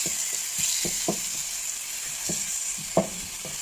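Ground meat and chicken asado sizzle steadily in a pan for pancit bihon, a constant hiss broken by scattered scrapes and knocks of stirring.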